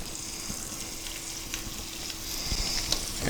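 Eggs cooking in a pan on high heat produce a steady, moderate sizzle that swells slightly toward the end, with a few faint taps and no speech.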